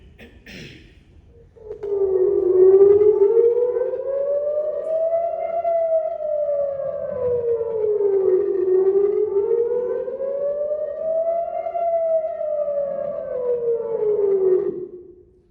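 A civil-defence air raid warning siren, loud and alone, its wailing tone rising and falling in slow sweeps for over ten seconds before cutting off.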